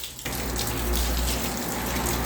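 Water gushes out steadily and loudly, poured onto a long staircase about three floors tall to clean it without detergent. The steady rush starts suddenly after a brief quiet moment.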